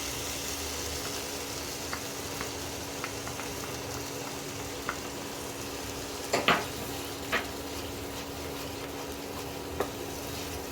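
Ground peanut paste fries in a pan with a steady, soft sizzle, broken by a few faint clicks and one brief scrape of a utensil, close but quiet.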